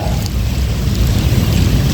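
Thunder rumbles low and heavy during a rainstorm in the UAE, a broad continuous roll mixed with the wash of falling rain, loud and close throughout.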